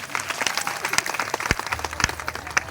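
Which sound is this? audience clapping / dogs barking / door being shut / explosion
audience clapping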